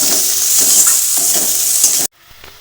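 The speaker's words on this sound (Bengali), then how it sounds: "এবার এই সব কিছু একটু ভালো করেই ভাজবো" Chopped onion and slit green chillies with cumin sizzle loudly in hot oil in a pan while being stirred in quick scraping strokes, then cutting off abruptly near the end.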